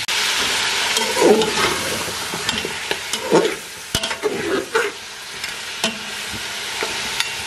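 Mutton frying in oil in a pot, giving a loud continuous sizzle with several scraping stir strokes and a sharp clank partway through, heard close up with no talking.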